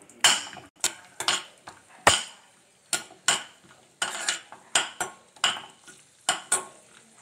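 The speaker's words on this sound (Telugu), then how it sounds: "ఒక ప్యాన్లోకి మనం నెయ్యి వేసుకుందాం" Cashews stirred in ghee in a pan, heard as a series of sharp scraping clatters of a spoon against metal in uneven rhythm, close and fairly loud, with quiet gaps between strokes and faint frying underneath.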